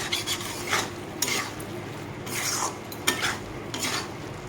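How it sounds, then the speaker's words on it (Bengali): A spoon stirring and scraping mung dal with spices and green chili in a pan, steady rasping strokes against the metal with a faint sizzle underneath, close and continuous. "তো ডালটাকে মশলার সাথে আমি ভালোভাবে কষিয়ে নিব"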